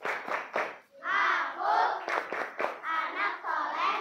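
A class of children shouts a rhythmic Islamic chant in unison, punctuated by sharp bursts of clapping in a steady beat.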